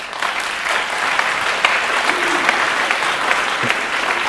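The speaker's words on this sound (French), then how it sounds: "je ne sais pas ce que veulent dire ces applaudissements" An audience at a 1989 talk breaks into sustained applause, a dense, steady wash of clapping lasting several seconds with a few sharper individual claps standing out.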